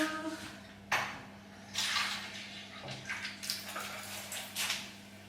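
Fresh water splashes into a cat's bowl in several short pouring bursts at close range, with a faint voice briefly at the start.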